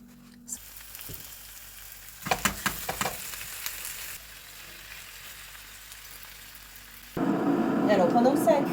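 Meat cooking in a pan, with a few quick scrapes and clatters of stirring, a quieter stretch, then a loud, dense sizzle that surges up near the end.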